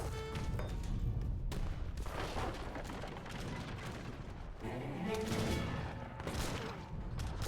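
Howitzers pound and destroy forts in a real-time strategy battle in Age of Empires III, a dense, continuous barrage of booms, gunfire and crashing debris that swells again near the end.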